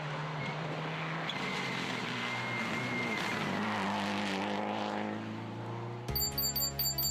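A Subaru Impreza R4 rally car on a stage of the Croatia Rally, engine roaring loud and close as it passes with a rising, then falling pitch, tyres scrabbling, before a brief cut to a rhythmic electronic beeping at the end.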